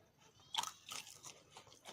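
Roasted peanuts crunched between the teeth after shelling, a few close, crisp bites in quick succession with a sharp first crack, heard alone without talk.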